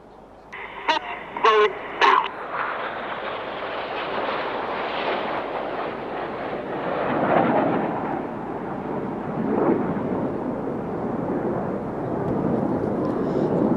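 Red Arrows jets roar overhead as they fly the Revolution manoeuvre at a Bournemouth air display, a broad rumbling wash that swells and surges after a few brief sharp sounds at the start.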